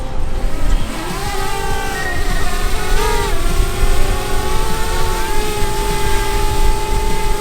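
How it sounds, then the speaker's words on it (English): A DJI Mavic Air drone takes off and flies outdoors, a loud, steady high-pitched propeller whine with buzzing harmonics that shifts pitch briefly as it maneuvers, heard alone without talk. "we get the drone in the air and let's get some cinematic shots"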